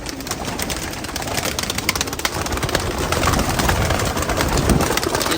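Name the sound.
pigeons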